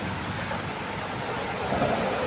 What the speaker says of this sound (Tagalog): Tapos dito sa ilog bumabaha.